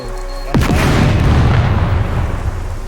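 A loud, close explosion set off by gunfire in a roleplay shooter game bursts suddenly and then rolls on as a long, heavy rumble that slowly fades, with no talking.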